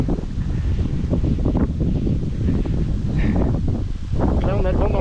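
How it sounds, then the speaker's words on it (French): Steady wind buffeting the microphone throughout, with a person talking close by over the rushing noise, while kayaking with the wind from behind near the Castillon dam. "On a le vent dans le dos là, ça c'est chouette."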